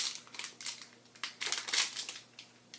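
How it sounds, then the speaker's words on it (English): Crinkly plastic wrapper of a Japanese convenience store sweet being unzipped and popped open, a run of close, quiet rustling and crackling bursts with no talk. "It just opens up with a nice little zipper thingy there, and then you can go ahead and pop it open like this"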